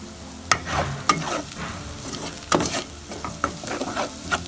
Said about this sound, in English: Just fried the spices.